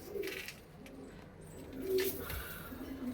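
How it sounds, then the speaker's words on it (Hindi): Punjabi Malwai chatri pigeons coo softly in a noisy setting, low murmuring calls rising and falling against a steady background hiss, faint and somewhat distant, with no talking. "बहुत नायाब कबूतर है भाई, बहुत नायाब कबूतर है।"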